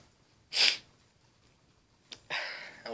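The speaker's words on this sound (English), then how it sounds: "this sneezing like crazy" A single sharp human sneeze bursts out near the mic, followed after a pause by another loud nasal burst and snort-like breaths, with quiet room background between.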